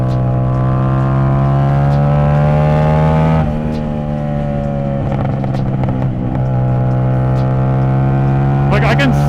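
A truck speeds past close by on a road, making a loud, steady engine roar with shifting pitch as it goes by, and a few rattles and knocks come through on top.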